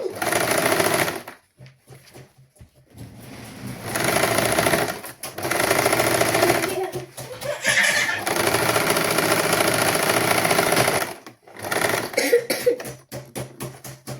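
A sewing machine stitches the back neck and shoulder seams of a sari blouse, running in several long, steady bursts separated by short pauses.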